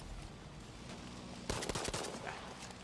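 PO8 carbine fired in semi-auto in Battlefield 5, a quick burst of several sharp, close gunshots after a quiet stretch, set against a constant low background din.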